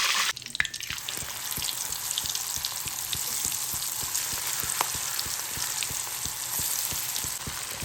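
Food fries in a hot pan on a home stove, giving a steady, close sizzle throughout, with a faint regular ticking pulse running underneath.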